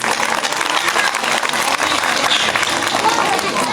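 Dense, steady applause from a large crowd, loud and continuous throughout, with a busy murmur of voices mixed in.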